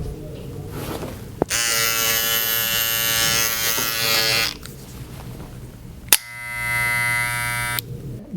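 A Bevel cordless hair trimmer buzzes on in two bursts, a loud, close, high-pitched electric whine with a click at each switch-on, separated by a short pause, with no speech.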